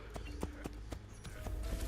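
Ezio's horse galloping in Assassin's Creed Brotherhood, quick rhythmic hoofbeats close by, about eight even clops over two seconds under low background sound.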